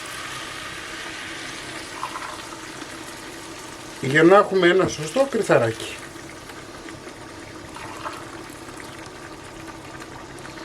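Hot water poured into a pot of orzo, a brief gurgling splash lasting about two seconds over steady background noise, with someone speaking around it.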